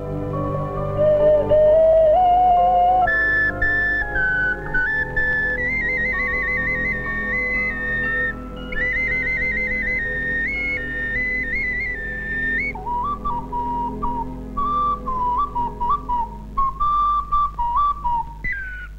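Painted clay toy whistles shaped like roosters and horses are blown in a string of bright, warbling tones. The pitches step up and down with short breaks, close and clear, and there is no talk.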